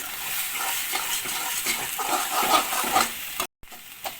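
Chowmein being stirred in a pan on a gas stove, with a steady frying sizzle and scraping stir strokes running continuously, broken by a brief dropout near the end.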